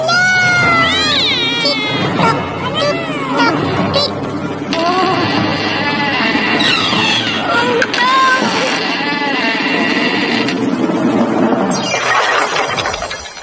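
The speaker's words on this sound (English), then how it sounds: "Oh no, there's a cat." A cat meows and squeals repeatedly over a nursery rhyme tune, loud and close, with a sustained tone in the middle and a voice singing throughout.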